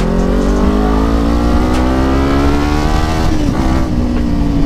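A Kawasaki Ninja 300 or 400 motorcycle's exhaust revs loudly and close, a steady throaty engine note that rises and falls slightly through the throttle pulls, with no speech.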